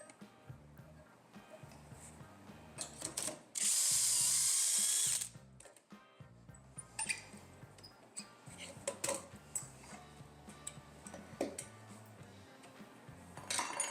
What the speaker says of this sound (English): drill dowel holes in the miters themselves